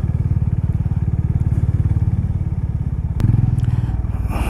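A motorbike rides through road traffic on a service road beside an expressway, its engine thrumming steadily and close throughout, with a brief clatter near the end and no talk.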